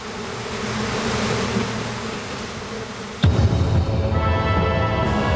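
Swarms of screwworm flies bred by the tens of millions in a factory in Mexico make a dense, continuous buzzing drone; about three seconds in, a sharp bang or knock is followed by a louder, closer hum.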